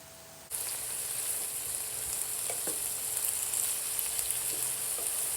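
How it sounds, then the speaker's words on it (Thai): A vegetarian stir-fry of Telosma flowers bursts into a loud sizzle as it hits the pan, then keeps frying in a steady close hiss with occasional light stirring clicks and no voices. "ผัดจนดอกขจรสุกพอประมาณ อย่าผัดนานเกินไป"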